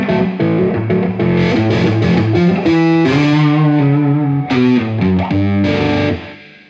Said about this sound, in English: You even can add like a metal overdrive.